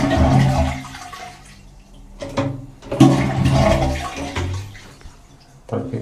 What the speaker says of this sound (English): And let's give it a flush test.